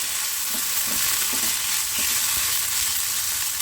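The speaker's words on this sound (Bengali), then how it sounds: "সর্ষেটা একটু ফুটে নিক এখানে দেখুন আমি আদা আর কাঁচা লঙ্কা বাটা দিয়েছি" Mustard seeds crackle in hot oil with ground ginger and green chilli paste, a dense continuous sizzle up close with a series of small pops and taps throughout, and no talking.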